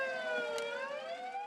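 Fire truck siren wailing through a narrow residential alley, a loud, steady tone that rises slowly over its brief span, sounding close by.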